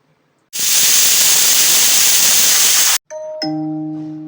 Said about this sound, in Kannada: ಈಗ ವಿಷಲ್ ಹೋಗಿದೆ, ಕುಕ್ಕರ್ ತೆಗೆಯೋಣ.